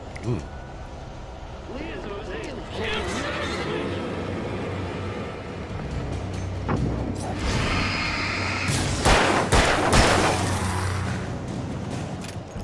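Flashbang blasts and gunfire burst out in the video game Alan Wake, with a run of sharp, loud bangs near the end, all mixed under steady talking and game noise.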